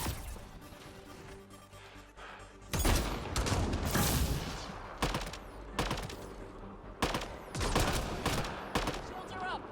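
Bursts of gunfire in the sci-fi video game Mass Effect, loud repeated volleys of shots and impacts after a quieter stretch, recurring in clustered waves through the scene.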